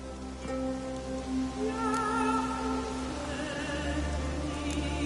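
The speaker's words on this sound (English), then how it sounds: "It's raining." Steady rain falls in The Witcher 3 video game, a continuous hiss of drops on surfaces running throughout, with soft tonal game ambience and music layered on top and no talking.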